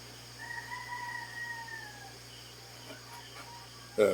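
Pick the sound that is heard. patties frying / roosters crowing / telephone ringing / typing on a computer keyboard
roosters crowing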